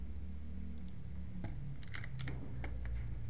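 Typing on a computer keyboard, a few quiet scattered key clicks and short bursts of taps over a steady low background hum, fairly close and soft.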